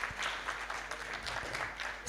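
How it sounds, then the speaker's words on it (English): Faint applause from an audience at a menopause policy event, a soft, distant patter of clapping lasting a couple of seconds. "Let's give them another round of applause."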